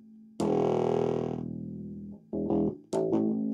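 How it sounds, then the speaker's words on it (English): A guitar amplifier with its gain turned too high gives out heavily distorted, buzzing tones: one long held note that fades, then two short bursts. "I'm going to see if it has a little bit of distortion when I put too much gain in."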